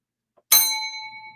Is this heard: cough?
no